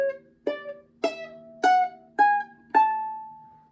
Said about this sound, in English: The major scale is a very familiar sound. It sounds like this.